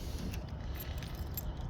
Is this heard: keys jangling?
yes